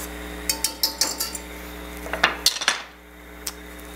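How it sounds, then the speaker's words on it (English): A whisk clinks steadily against a metal pan while lemon juice and fresh parsley are beaten into a sauce, a quick run of sharp taps followed by a second burst, close and clear with no talking. "Whisk that in."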